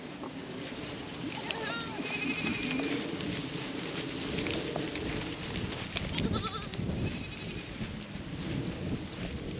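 Goats on a breeding farm give two short bleats a few seconds apart, close by, over a steady background hiss and faint voices.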